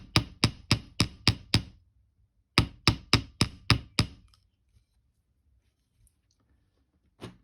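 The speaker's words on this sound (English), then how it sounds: "I'm just going to give that hammer all over, including the loop up the top" A rubber hammer taps wire in two quick bursts, six then six, evenly spaced, with a pause between them and silence afterward.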